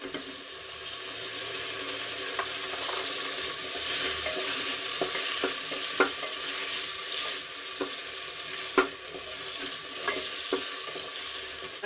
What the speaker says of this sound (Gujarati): આદુ અને લસણ સરસ રીતે સંતળાઈ ગયું છે તો એમાં ટમેટા ઉમેરી દઈશું